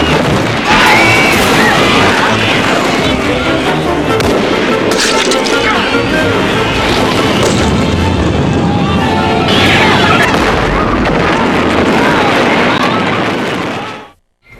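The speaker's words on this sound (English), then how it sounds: "Add a loud explosion, and suddenly the filmmaker's apocalyptic vision comes to life." A loud, sustained roar of explosions and booming blasts, rumbling and crackling for over ten seconds before cutting off abruptly.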